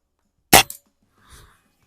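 A single suppressed rifle shot with a buck rail suppressor and a fiberglass-reinforced 3D printed magazine, fired on an outdoor range: one sharp, muffled crack with a brief echo, then near silence and a faint soft thump.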